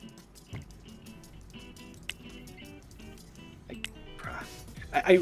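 A Dachshund barks and yips loudly in short bursts indoors, with whimpering and people talking throughout.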